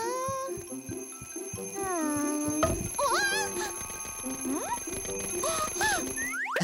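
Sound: alarm clock ringing

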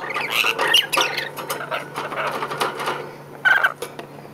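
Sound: rainbow lorikeet calling

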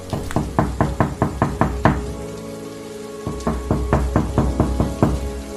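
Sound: knocking on a door, horror story sound effect

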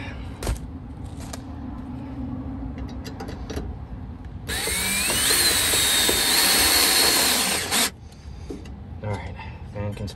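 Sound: drill mounting a solar attic fan

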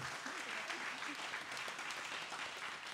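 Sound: audience applause at a team presentation event

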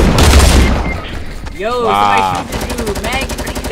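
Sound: gunfire in Fortnite video game

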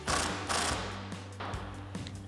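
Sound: tightening a nut with a 19 millimeter socket ratchet

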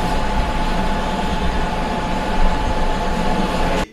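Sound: train pulling out of a railway station

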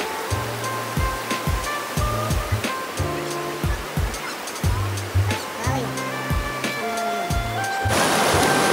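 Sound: strong rushing river water

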